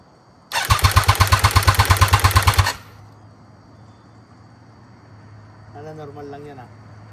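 A motorcycle engine cranking and catching after sitting through winter, loud and close, with a fast regular stutter for about two seconds before cutting out; someone talks quietly afterward.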